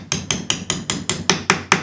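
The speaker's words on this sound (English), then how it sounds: "You might find they just go in without hitting with a hammer. Otherwise, you just tap it in." A hammer taps lazy Kate supports into the holes of an Ashford Traveller 3 spinning wheel, nine sharp evenly spaced wooden knocks in quick succession, close and alone.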